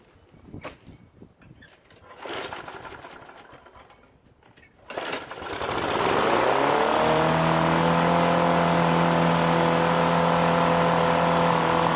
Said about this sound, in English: it ran, the RPMs are super high, and then it didn't want to shut off.